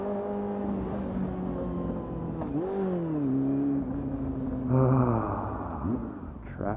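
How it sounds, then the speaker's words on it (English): Road traffic heard from a motorcycle, with engines droning and rising in pitch as vehicles accelerate and pass close by, plus a brief louder rush near the end. "Traffic."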